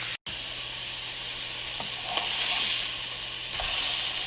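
Salisbury steak patties searing in a dry pan without added grease, a steady close hiss and crackle of sizzling that swells slightly midway, with a brief cut near the start.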